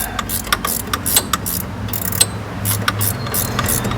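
A GearWrench 90-tooth ratcheting wrench working an alternator bolt on a Dodge Caravan, a close series of quick, crisp clicking bursts with short pauses between strokes, over a faint low engine-bay rumble, no voices.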